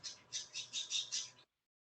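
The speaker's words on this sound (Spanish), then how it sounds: "Se oye más el pajarito." Small bird chirping in a burst of about six quick, bright, evenly spaced chirps, fairly close and clear over faint low background hum, then sudden silence.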